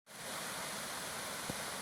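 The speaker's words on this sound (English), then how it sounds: "Came across these waterfalls and swimming hole." A creek waterfall spilling into a swimming hole gives a steady, even broadband roar, soft and moderately distant, with one brief faint knock partway through and no voices.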